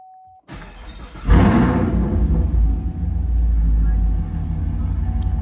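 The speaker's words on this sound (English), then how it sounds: "And we can restart the car." A 2021 Chevrolet Camaro A10 engine restarting after a transmission control module swap: a short chime, a pause, then a sudden cranking catch into a loud, deep idle rumble that settles into a steady, close engine drone.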